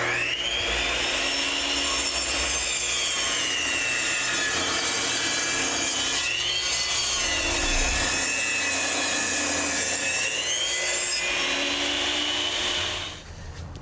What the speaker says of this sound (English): we're going to cut our spindles out of a 2x6